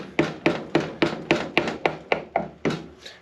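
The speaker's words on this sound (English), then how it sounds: "I'll take the butt of the hammer and I'll just lightly tap on it" The butt of a hammer lightly taps a transmission servo into its bore during a 47RE/48RE transmission rebuild. About ten crisp, evenly spaced taps ring out close and alone.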